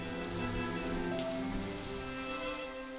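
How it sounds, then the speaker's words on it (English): Rain falls in a steady, dense patter that holds at an even level throughout, with no voices. "On that afternoon, the sky opened and it rained."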